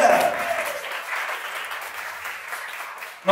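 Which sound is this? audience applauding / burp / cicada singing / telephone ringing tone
audience applauding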